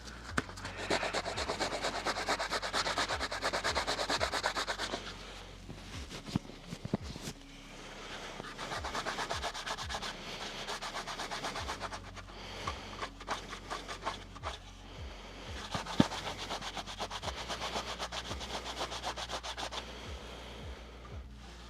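Continuous rough scratchy sanding with a sanding brush that is caking up, rubbing back and forth in steady strokes with a short pause partway through, close and fairly loud.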